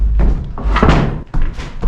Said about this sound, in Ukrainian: О, така вібрація йде, коли йдеш на другому поверсі